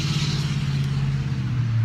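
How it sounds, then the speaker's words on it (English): A loud passing truck, likely towing a boat near a lake, rumbles with a steady low engine drone that swells slightly toward the end, heard alone without talk. "have you ever found yourself wondering why loud trucks always drive by when I start a live video?"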